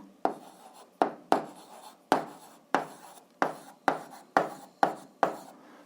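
Pen strokes on paper while an answer is written out for an 8th-grade algebra exercise: about ten short, brisk scratching bursts in a steady rhythm, close and fairly quiet, with no talking.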